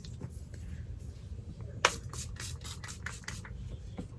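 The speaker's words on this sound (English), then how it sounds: "I'm gonna spray my face." A series of quick, hissing spray bursts from a pump face-mist bottle sprayed onto the face, about eight short puffs in rhythm, close and fairly loud over a low background hum.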